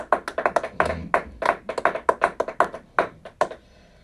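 People in a church congregation clap, with distinct, irregular hand claps sounding close and crisp, separated by short gaps.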